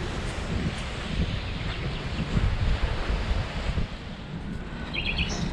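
Surf rolls onto Ammos Beach near Stavros, Greece, with waves washing in continuously under gusting wind buffeting the microphone, steady and fairly loud throughout.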